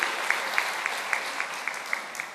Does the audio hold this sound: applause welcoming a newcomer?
yes